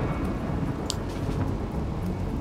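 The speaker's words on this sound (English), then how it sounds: "Luckily, it is raining." Steady rain in the Rimworld video game, a continuous broadband hiss and patter that runs evenly through the whole stretch, with one brief brighter tick partway along.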